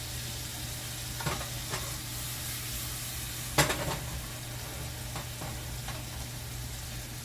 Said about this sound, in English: Once the cherries start crackling and sizzling